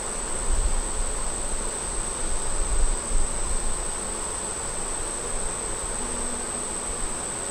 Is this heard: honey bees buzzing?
yes